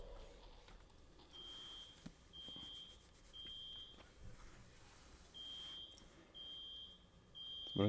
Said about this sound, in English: Somebody needs to turn off their alarm clock.